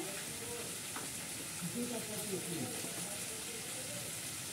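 Kashmiri chili powder sautéing in an oily pan, giving a steady close sizzle and frying hiss with soft stirring scrapes; a voice talks over it.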